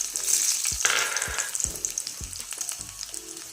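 Small shallots and dried red chillies fry in a hot tempering, making a loud, crackling sizzle close up. Several dull thumps and scrapes of stirring follow as the sizzle settles lower.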